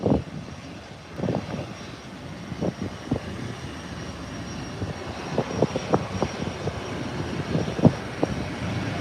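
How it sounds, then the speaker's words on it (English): An American airliner rolls down the runway at an international airport and lifts off. Its engines give a loud, steady roar heard from a distance, with rumbling gusts that grow toward the end. "An American airline is rolling down the runway. There you have it. And the nose wheel is up. And it's away."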